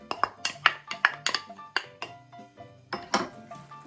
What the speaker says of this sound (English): I'm just going to dump my egg in here and stir it up